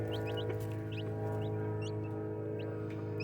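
Chickens in a coop with chicks and roosters: soft, repeated clucks and high chirps scattered over a steady low hum, fairly quiet and close, with no voices.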